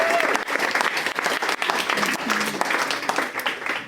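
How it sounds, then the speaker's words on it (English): Audience applause for a contestant at a lighthearted science game show, dense steady clapping filling the whole moment at close range with scattered voices mixed in. "round of applause for Karina Logan."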